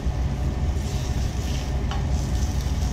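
Turkey saltimbocca frying in a cast iron pan, a steady sizzle running without a break under low stovetop rumble, close and fairly loud throughout.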